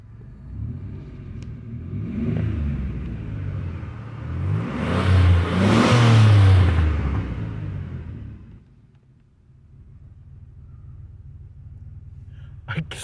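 A 1991 Chrysler New Yorker Fifth Avenue backs up in reverse, its engine giving a low, swelling rumble that builds to a peak mid-way and then fades to a quiet idle hum.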